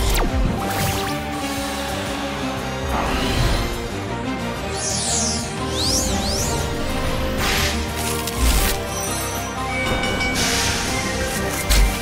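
A loud, continuous rumble of a cartoon train rolling along the tracks in a children's animation, with metallic clatter, squeals and a busy layered soundtrack throughout.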